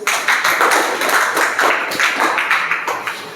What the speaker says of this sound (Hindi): Very good, Tali बजाइए।